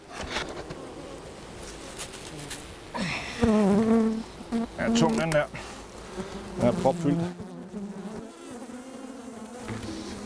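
Honeybees buzzing steadily around hive boxes as frames are emptied at an urban apiary, a continuous close drone with louder swells as bees pass near.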